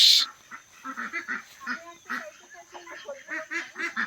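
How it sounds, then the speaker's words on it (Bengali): Ducks quacking and honking close by as they are caught, a busy run of repeated loud calls in uneven bursts, with some people talking faintly underneath. "এই দেখো এখন ধরা হবে হাঁস"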